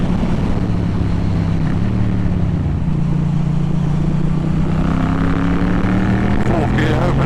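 Yamaha MT-07 motorcycle accelerating hard in fourth gear, its engine note rising in a steady climbing drone over loud wind roar, with a brief dip partway through as it keeps pulling.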